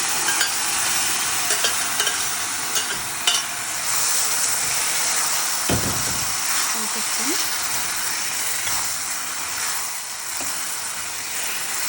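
Cooked okra curry hits golden fried onions in a hot pan and sizzles with a loud, continuous hiss, while a spoon scrapes and stirs through it in brief rattling strokes.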